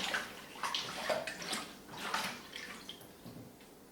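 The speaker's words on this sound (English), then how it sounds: "I'm going to dump those in the water and rinse them out" Water sloshes and swirls as food is rinsed in a basin, with gentle splashing surges and drips, close by and fairly soft.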